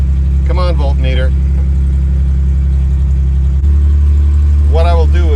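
Jaguar XJ6 engine idling steadily with a deep, loud, constant rumble, while someone talks briefly over it.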